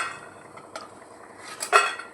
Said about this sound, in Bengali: বড়িটা ভেজে তুলে নিচ্ছি।